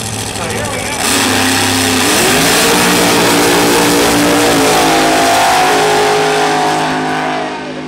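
A Pontiac Firebird dragster launches and roars down a drag strip in Norwalk, Ohio, its engine revving loud and rising in pitch for several seconds before fading slightly at the end.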